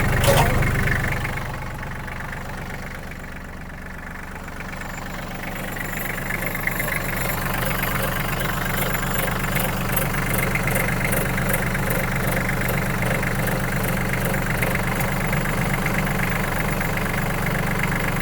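A Kubota 34 hp tractor engine idles smoothly and steadily for a long stretch, a continuous low hum and mechanical drone heard up close with no speech over it.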